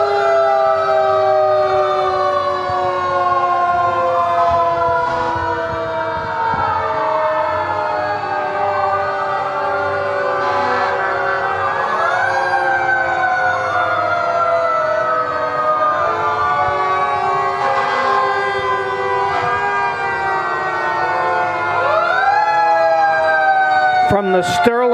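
A loud, continuous fire engine siren wails with overlapping rising and falling tones as antique fire trucks pass in a small-town civic parade, steady and close throughout.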